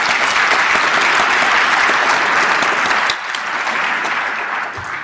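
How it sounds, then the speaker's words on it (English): Sustained round of applause from a conference audience at a gathering of BC government and First Nations representatives, a dense steady wash of many hands that eases slightly partway through, with no talking. "Let's give all of these people a round of applause."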